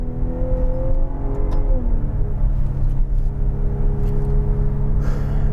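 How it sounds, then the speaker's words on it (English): A Maserati Levante S Q4 SUV rolls down a hill, its engine a low, steady rumble with a faint gliding whine inside the cabin, close and continuous without talk. "Driving down a hill like I'm doing now is kind of scary with the Levante."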